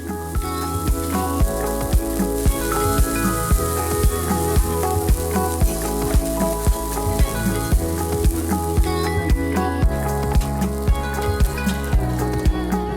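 A wo, a Nepali lentil pancake, sizzling on a frying surface at a Kathmandu street food stall, with a loud steady crackle and a rhythmic series of sharp taps throughout.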